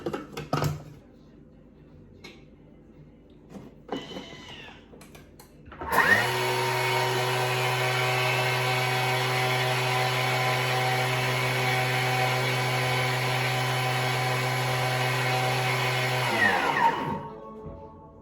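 A Thermomix mills sugar at high speed, letting out a loud, steady whine for about ten seconds after a few brief clicks and handling noises, then spinning down at the end.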